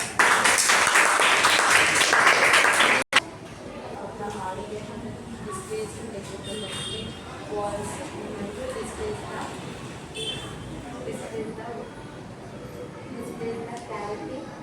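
A classroom of students clapping for a classmate, a dense burst of applause in the opening three seconds that cuts off abruptly, followed by a room murmur with scattered voices.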